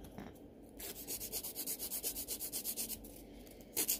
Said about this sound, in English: This is a 100-180 file that I'm using.